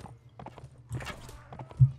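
Horse hooves gallop in the Mount & Blade: Warband video game, a fast, steady clip-clop of game hoofbeats over about two seconds with a heavier thump near the end.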